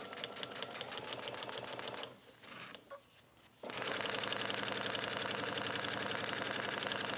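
A sewing machine stitches faux suede fabric in a rapid, steady mechanical chatter close by, pausing briefly in the middle with a few soft handling sounds before resuming at full speed to the end.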